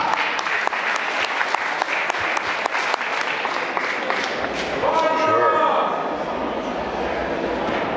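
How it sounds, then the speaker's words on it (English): A convention crowd at a horror fan weekend gives Russell Streiner a warm welcoming round of applause. The clapping is loud and sustained throughout, with voices and some tonal sounds partway through. "please give a warm welcome applause to Mr. Russell Streiner"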